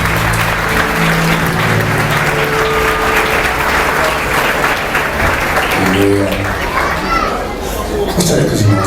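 Church congregation applauding together, a steady dense wash of clapping with children's voices and chatter mixed in throughout.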